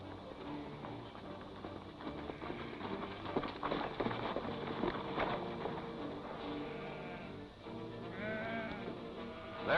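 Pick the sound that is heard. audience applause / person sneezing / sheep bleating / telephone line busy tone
sheep bleating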